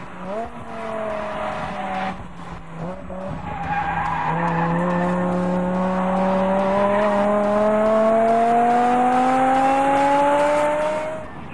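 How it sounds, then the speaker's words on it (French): A BMW M6 coupé with a V10 engine brakes and drifts on a race track: loud, sustained tyre squeal rides over a high-revving engine whose pitch climbs steadily toward the redline, close by, with no voices. "le tout se terminant par une belle dérive, le V10 proche de la zone rouge"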